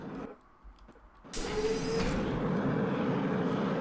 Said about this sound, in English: It's the sound of the jetpack.